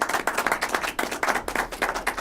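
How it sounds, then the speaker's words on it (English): A small audience claps for the band, with close, loud, rhythmic hand claps that come in quick uneven bursts. "Let's clap it up one more time for"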